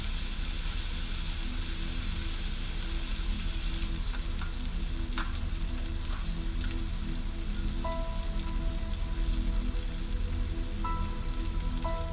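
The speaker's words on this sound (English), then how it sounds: "we're just gonna cook up the ribeye, cook up the shrimp, and just do a protein special" Ribeye steak and shrimp frying on a Skottel griddle outdoors, a steady dense sizzle and crackle running throughout with a faint higher tone appearing late on.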